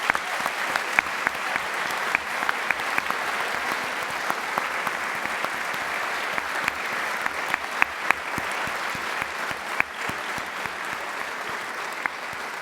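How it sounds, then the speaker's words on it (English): Sustained round of applause from a graduation ceremony audience, steady dense clapping throughout with no voices over it. "Everyone, please give a round of applause to all the loved ones that support you today."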